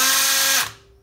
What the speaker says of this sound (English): Now I am testing my cordless driver. Will it remove the lug nuts